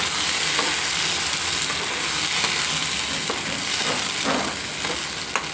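Onion and tomato paste fries in a hot pan with a dense, steady sizzle and a few sharper crackles and pops, close and continuous without any voices.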